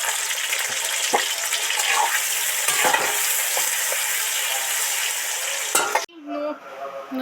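Bitter gourd pieces frying in hot oil with salt for shukto, a loud continuous sizzle and crackle with occasional stirring scrapes, then a lid set on near the end muffles it to a softer bubbling.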